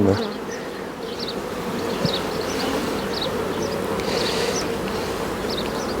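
A crowded hive packed with honeybees gives off a steady, dense buzzing that holds at an even level throughout, with faint higher whines of single bees flying near.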